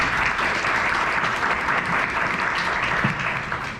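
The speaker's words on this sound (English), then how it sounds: "So how about a round of applause?" An audience claps in a full round of applause at a sports panel event, dense steady clapping throughout with little fading.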